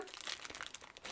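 A plastic bag holding a folded poncho crinkles and rustles in quick, close, quiet bursts, with no voices.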